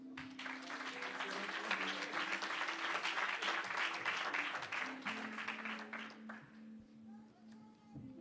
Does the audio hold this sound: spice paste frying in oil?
no